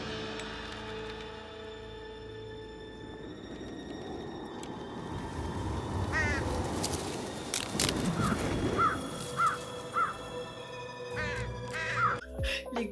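Crows in the film Corpse Bride cawing in a series of harsh, repeated calls over a swelling orchestral score, the caws rising clearly from moderate distance in the second half.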